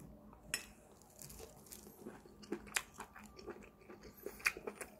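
Boiled octopus dipped in sesame oil sauce being chewed, soft close-up chewing and crunching with faint clicks, quiet and irregular, no talking.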